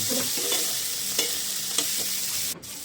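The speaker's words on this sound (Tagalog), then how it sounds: "Gisa-gisa lang, gisa-gisahin mo lang" Ingredients stirred and sautéed in a pan for a Filipino coconut-milk milkfish dish: steady close sizzle with a few sharp spoon-on-pan scrapes and taps, ending in a brief clatter, no talking.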